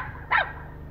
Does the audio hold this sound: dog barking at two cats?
yes